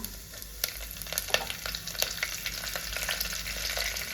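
Cumin seeds and curry leaves fry in hot oil in a pan, giving a steady sizzle with sharp pops and crackles and occasional stirring clicks, close and alone without talk.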